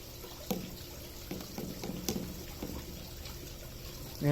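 Bleach poured into a beaker, a faint, brief liquid trickle with a few small clinks of glass close by in a quiet room.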